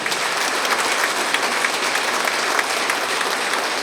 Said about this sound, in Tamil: உண்மையிலேயே அதுக்கு ஒரு கைத்தட்டல் கொடுங்க